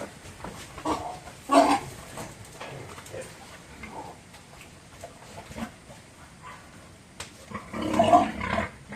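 A mother pig grunts and squeals in short bursts, loudest in a couple of louder calls near the start and end, with quieter snorts between, close by on a farm in the early morning.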